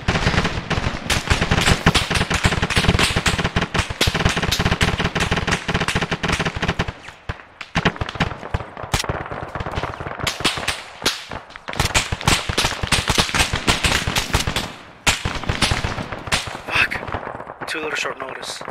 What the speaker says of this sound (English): start shooting the paratroopers